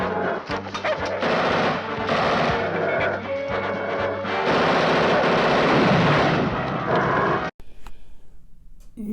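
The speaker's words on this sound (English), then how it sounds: "Maybe firing a machine gun in the direction of a helicopter wasn't the smartest idea for this hunter." Machine gun fire in the horror film The Beast Must Die rings out as a hunter shoots toward a helicopter, loud dense rapid bursts that run for several seconds before cutting off abruptly, with quieter sound afterward.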